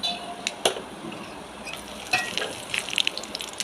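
Whole spices such as star anise, cinnamon, cloves, cardamom, bay leaves and fennel, along with green chillies, crackle and sizzle in hot oil, with sharp pops and a couple of light utensil clinks close by.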